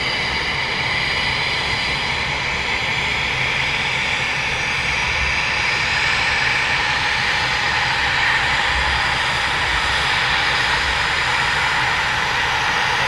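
A Eurofighter Typhoon jet taxis at RAF Coningsby, its engine a steady, loud roar with a broad whine that holds unbroken throughout.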